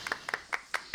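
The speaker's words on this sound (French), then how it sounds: "Applaudissements. On s'applaudit là." A small group claps for itself in celebration, a few quick, light, uneven hand claps sounding close by and fairly soft.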